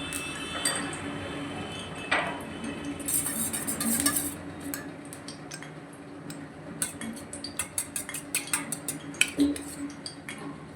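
An egg is beaten in a bowl for an egg roll, with a utensil striking the bowl in clinking metallic taps, sparse at first and then quicker and more rhythmic toward the end, with no talking.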